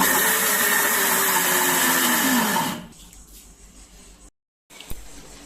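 A kitchen blender crushes onion, green chillies and coconut in a loud, whirring burst whose pitch drops as it runs, then cuts off into quiet room noise with a brief silence and a small knock.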